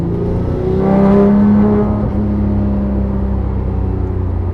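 A Porsche GT3 exhaust note while driving on a road and decelerating, a loud, steady engine rumble with a rising then easing tone, heard alone without talk.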